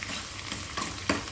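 Onion frying with tempering spices in a pot for a village-style tamarind-leaf dal, a close, steady sizzle with a few scraping stirs and clinks of a spoon against the vessel, no talking.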